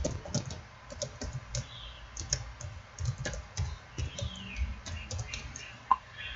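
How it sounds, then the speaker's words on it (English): Typing on a computer keyboard, quick irregular bursts of close clicking keystrokes with short pauses between them, moderately loud against a quiet room. "I'll type mine down too."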